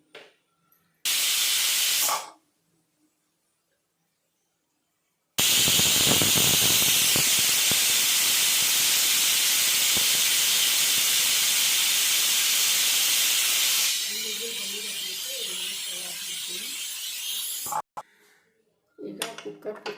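After mutton is cooked, a pressure cooker gives a sharp hiss when it first vents. Then comes a long, loud, steady jet of escaping steam that runs for several seconds before easing off and stopping.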